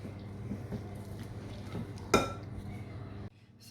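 Batter for light, fluffy lemon drizzle squares being mixed in a bowl, with a spoon or utensil clinking and scraping against the sides in soft, uneven strokes, one sharper clatter near the end.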